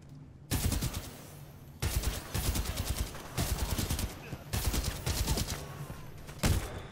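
Rifle fire in Titanfall 2 crackles in several dense, rapid bursts, loud and near, separated by short pauses.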